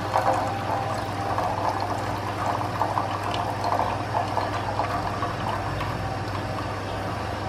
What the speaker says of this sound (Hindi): ये जो हमने गुड़ का बनाया था उसको फिर स्लो हाथ से आपने डालना है